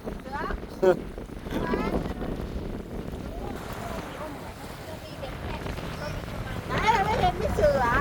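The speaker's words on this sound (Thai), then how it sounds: "หมืโอ้ลมแรงจริงๆด้วยนะ" Strong wind gusts across open water at a lakeside landmark in Surin, Thailand, roaring and buffeting loudly against the microphone, with people talking through it and rising near the end.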